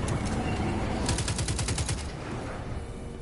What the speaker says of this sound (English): I should shoot them with my gun